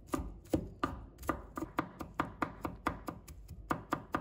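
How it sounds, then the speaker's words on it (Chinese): Garlic cloves chopped with a kitchen knife on a cutting board, about a dozen sharp, evenly spaced knife strikes in a steady rhythm, close and clear with no talking. "再准备1把大蒜，把它切成小块，"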